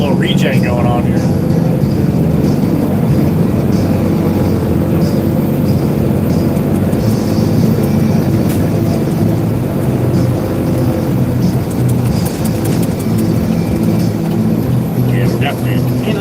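A newer diesel truck engine running in exhaust regeneration gives a steady, loud low rumble and drone that holds throughout, with faint higher hiss on top and someone talking over it at times.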